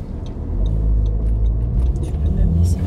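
An Audi Q3 drives along with a steady low road rumble and engine hum from inside the cabin, and people talk over the noise.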